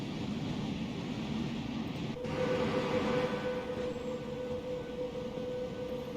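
A Class 92 electric locomotive in Train Simulator Classic rolls through Carlisle station, a steady low rumble of wheels and traction hum with a thin sustained tone entering partway, at moderate loudness with no voices.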